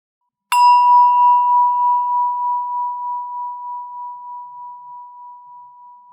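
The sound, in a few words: meditation bell ringing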